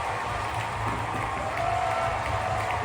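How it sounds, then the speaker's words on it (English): Stadium crowd at Kauffman Stadium in Kansas City roaring after a Royals home run, a dense, steady wash of cheering and applause with a low rumble underneath, loud and continuous throughout. "Home run celebration here in Kansas City."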